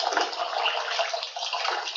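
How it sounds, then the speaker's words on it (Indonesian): Water gushes steadily from an opened tap on a water-level demonstration device, a continuous, fairly loud broadband rush with no pauses and no voices. "Bila keran dibuka,"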